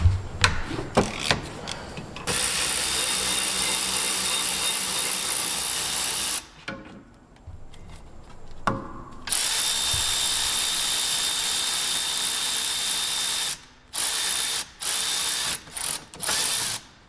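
Ratchet wrench working on the 14mm brake caliper bracket bolts during a rear pad and rotor replacement, rapid mechanical clicking and whirring in long bursts broken by short pauses.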